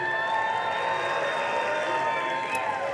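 Crowd at a FIRST Robotics Competition REBUILT district event, a steady wash of cheering and noise in a large venue, held at even volume throughout with a tonal hum running underneath.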